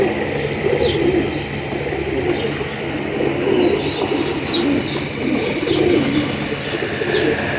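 Cross-bred Sundari pigeon cooing softly and repeatedly, close by against steady outdoor background noise, with faint chirps from other birds scattered through.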